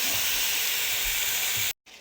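Chicken sears in a greased cast iron skillet over medium-high heat, giving a loud, steady, close sizzle that cuts off abruptly near the end.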